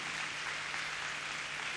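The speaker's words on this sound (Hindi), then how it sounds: "हम सब लोग जोरदार तालियां बजाकर हमारे बच्चों को बकअप कर" Steady, dense applause from a school audience at a children's fancy dress event, continuous and moderately loud throughout with no voices standing out.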